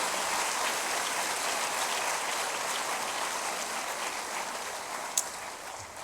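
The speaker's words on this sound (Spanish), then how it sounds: "Otro aplauso al Señor." A church congregation applauds steadily during a sermon, a dense, even wash of clapping lasting throughout with one sharp clap standing out near the end.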